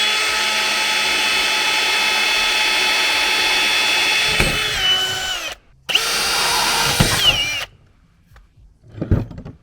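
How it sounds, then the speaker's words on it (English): A power drill boring holes for the bolts of a DIY barn door, running in two loud sustained bursts with a short pause between them, then stopping into quiet handling clatter. "we're gonna go ahead and drill our holes and then drive our bolts through"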